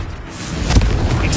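Confringo fire spell in Hogwarts Legacy goes off as a brief, loud, booming explosive burst, one close blast with rumbling tail amid game background noise.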